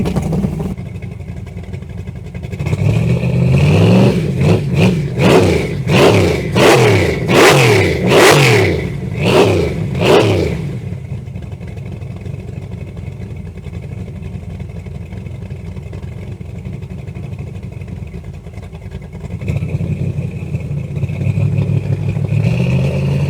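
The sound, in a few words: V8 car engine revving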